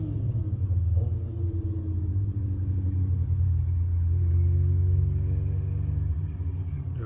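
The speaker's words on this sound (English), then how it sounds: "you'll hear that souped up Honda." A souped-up Honda car rumbles by with a deep, throaty engine drone that rises and swells, then shifts pitch as it passes at moderate distance.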